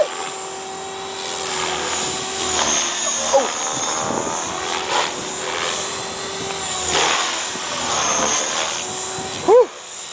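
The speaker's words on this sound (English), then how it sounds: "I've never seen anyone fly a helicopter like that in my life." A helicopter flies close by, its steady rotor and engine roar holding across the whole stretch with slight swells, with a brief higher whine near the end.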